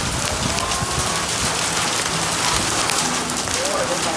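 Heavy hail pours down in a storm, a dense, loud and continuous hiss of ice pellets battering surfaces nearby, studded with sharp ticking impacts throughout.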